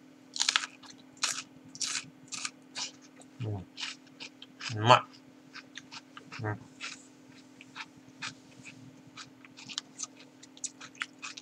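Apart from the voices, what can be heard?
crunchy chewing of cucumber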